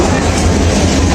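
Near the platform at Sreemangal station, the Parabat Express train bound for Dhaka rolls in, a loud, dense rumble with steady wheel clatter and no break.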